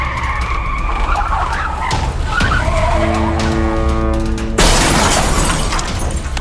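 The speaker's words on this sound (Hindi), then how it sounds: "अचानक उसकी गाड़ी का नियंत्रण बिगड़ गया" A car skids out of control on a rain-soaked road in an audio drama, with a long tire screech rising over engine roar before a sudden loud crash of breaking metal and glass near the end, all close and loud.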